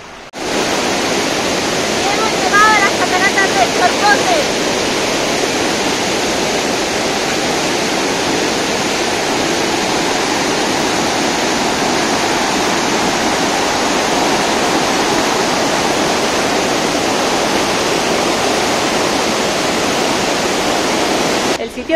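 A river runs past stone banks and a barbecue area with benches, giving a steady, loud, broadband rush of flowing water that holds evenly throughout with no voices over it.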